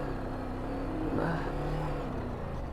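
A Ducati DesertX motorcycle pulls away in first gear through soft desert sand, with a steady engine drone that rises briefly in pitch midway and then settles again, continuous and fairly close, with no talking.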